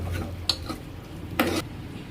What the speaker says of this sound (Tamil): சிக்கன் போட்டு நம்ம இந்த மிக்ஸ் பண்ணிக்கலாம்.